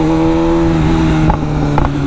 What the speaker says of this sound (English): those pops sound good